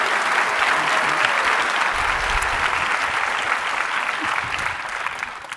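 Loud, dense audience applause at a SXSW 2023 conversation event, a sustained round of clapping that fills the room and tapers slightly at the end.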